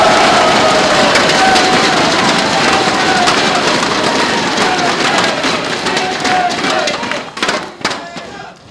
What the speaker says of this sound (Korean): 여러분 제 말에 동의하시면 큰 박수 한번 보내주시기